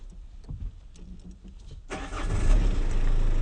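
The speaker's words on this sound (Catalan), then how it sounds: "Arranca el cotxe que on anem." A car engine starts after about two seconds of quiet rustling and small knocks, then keeps running as a loud, steady rumble.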